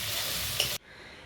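Prawns frying in hot oil in a Bengali home kitchen give a steady, close sizzle that cuts off abruptly partway through, leaving near silence.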